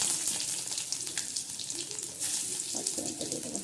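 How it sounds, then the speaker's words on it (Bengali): Panch phoron spices crackle in hot oil in a kadai, a dense steady sizzle with sharp spitting pops running the whole time, fairly close, with no voices over it. "5 ফোড়নটা দিয়ে দেবো"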